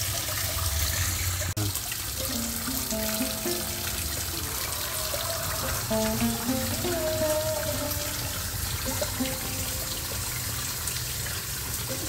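Water runs steadily from a tap in a rural Philippine kitchen while food is washed, a continuous trickling flow with soft splashes and occasional handling clatter throughout.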